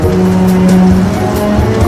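A loud car engine growls at close range with a steady low drone, joined by a brief tire squeal over the rumble.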